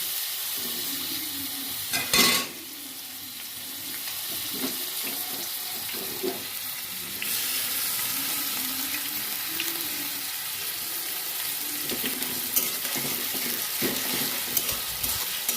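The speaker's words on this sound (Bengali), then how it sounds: "আর এখানে কড়াইয়ের মধ্যে তেল গরম করতে দিয়ে দিয়েছি। তেলটা গরম হয়ে গেলে দিয়ে দেব পেঁয়াজ কুচি।" Chopped onions fry in hot oil in a wok for a prawn curry, a steady hiss broken by occasional stirring scrapes and a sharp burst near the start.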